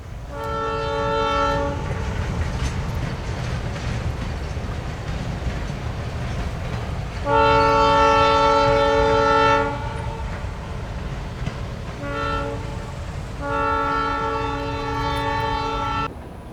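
An EMD GP7 diesel locomotive working at the Port of Shreveport sounds its horn in several long chord blasts separated by pauses, over a steady rumble of engine and rolling rail cars.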